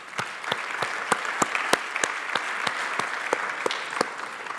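A small conference audience gives a brief round of applause, with sparse, distinct claps scattered in an irregular rhythm over a quiet room, moderately close and without talk.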